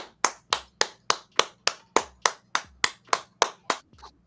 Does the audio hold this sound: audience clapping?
yes